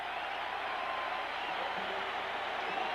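A baseball stadium crowd at a 1980 Houston Astros–Los Angeles Dodgers game roars with steady, broad cheering as the Dodgers come to bat, a continuous wash of voices with no single standout shout.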